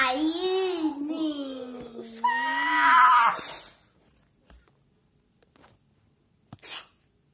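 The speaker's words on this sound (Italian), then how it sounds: "avete sentito una donna gridare? Quella era la madre di Harry Potter." A woman's wailing scream, the voice of Harry Potter's mother triggered as a Dementor effect, rising and falling up close for about three seconds before fading to near silence with a few faint clicks.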